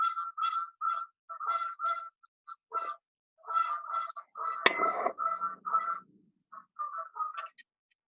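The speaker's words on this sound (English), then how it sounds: "that's a duck in my backyard" A duck in a backyard calls in repeated bursts of honking quacks, some in quick runs, close and fairly loud, with a short rustling crash partway through and no talk.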